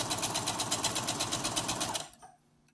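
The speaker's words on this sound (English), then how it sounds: "we're going to do pivot and sew straight across" A sewing machine sews a straight seam across a fabric neck pillow, giving a fast even mechanical whir up close that stops abruptly about two seconds in.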